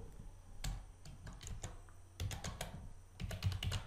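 Credentials are typed on a computer keyboard in quiet, uneven bursts of light key clicks, faint and close, with short pauses between runs of keystrokes.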